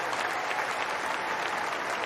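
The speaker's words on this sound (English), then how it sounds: "Maybe we have one more round of applause for what Karen did this week" A tennis stadium crowd applauds steadily, a dense wash of clapping at moderate distance that holds evenly throughout without pause.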